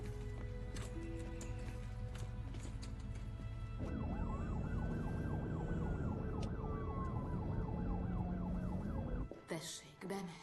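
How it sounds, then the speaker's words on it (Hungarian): An ambulance siren wailing in a residential neighbourhood, its rising and falling tone entering a few seconds in and sweeping steadily before cutting off abruptly, heard at moderate distance beneath low ambient noise. "Ne engedd, hogy a mentő behajtson a lakónegyedbe."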